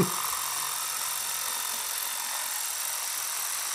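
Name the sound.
electric jigsaw cutting wood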